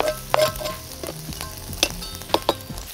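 Roast beef or bacon sizzles in hot oil in a pan, a steady fry with a few sharp stirring clatters and scrapes over short bursts.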